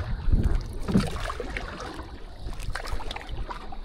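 Soft splashing and swishing of a paddle moving through water, with wind noise across the microphone and a low rumble underneath; no talking.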